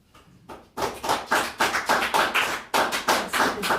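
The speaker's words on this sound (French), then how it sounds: "La cave se rebiffe dont on entend les applaudissements nourris" Small audience in a cellar venue breaking into sustained, vigorous applause, close and dense, with rhythmic clapping surges that continue without talk.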